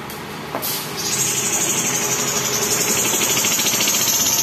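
An Isuzu 10PD truck engine runs loud and close with a steady rough rumble, joined by a persistent high hiss after a brief click near the start.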